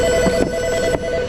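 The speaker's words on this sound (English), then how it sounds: "Phone's ringing." A telephone rings in a repair garage during a front disc brake job on a Cadillac, a steady electronic ring that repeats through the clip with a short break between bursts, loud and close, with no talk.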